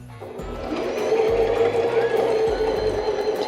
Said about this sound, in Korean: 자, 이상이 없으면 재봉틀을 작동을 해볼게요.